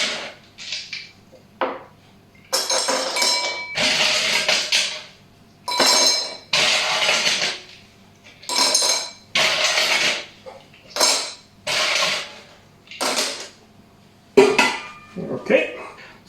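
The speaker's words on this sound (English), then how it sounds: "We take our highball glass and we're gonna fill the glass with ice." Ice cubes are dropped into a highball glass in repeated bursts of clinking and rattling, close and crisp, separated by short pauses over about sixteen seconds.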